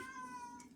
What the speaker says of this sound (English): and if you hear meowing in the background